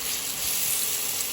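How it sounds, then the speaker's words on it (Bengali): Potatoes frying in hot oil over high heat for a Bengali mutton dish, a steady, even sizzle that stays loud and constant throughout with no voices. "আলুটা আমি জোর আঁচেই ভেজে নেব"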